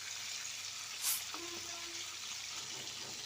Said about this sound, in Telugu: ఇప్పుడు ఆయిల్ కాగింది కదా ఇప్పుడు ఎండి చేపలు వేసుకుందామండి నూనెలో వేసుకోవాలి